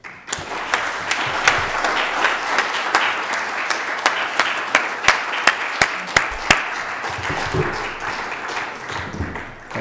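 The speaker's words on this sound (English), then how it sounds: "Let's give all of our readers one more round of applause." An audience applauds after a reading at an arts and creativity event: dense, steady clapping from a crowd, loud and sustained for the whole stretch, with a few sharp nearby claps standing out and the ovation easing slightly toward the end.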